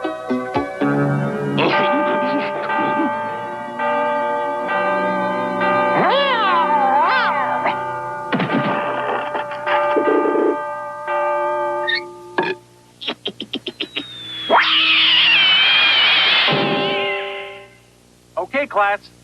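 A cartoon cat yowls and meows in long, wavering cries over a musical score, ending in a drawn-out loud caterwaul, with voices talking around it.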